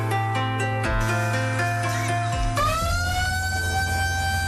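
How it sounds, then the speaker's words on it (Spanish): Siren of a three-deck river barge at the El Coca waterfront on an Amazon river, a loud sustained multi-tone horn blast with a rich harmonic drone that shifts pitch partway through and holds steady to the end. "El sonido de la sirena de una barcaza de 3 pisos anuncia el inicio de la travesía desde el malecón de El Coca."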